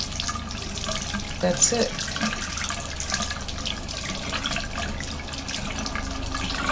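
Tap water runs steadily while a stained makeup brush is rubbed and rinsed under it at a sink after a brush cleanser is used, a continuous close splashing with a brief louder burst and a short spoken remark over it.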